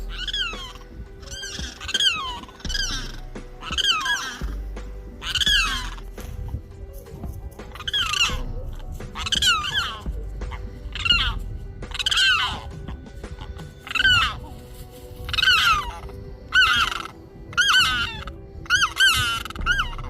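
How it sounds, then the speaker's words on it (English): A limpkin calls out across an open prairie wetland, giving loud, wailing cries in a steady series of repeated bursts with short gaps, over a low background hum. "Perhaps the loudest bird species in the prairie was the limpkin"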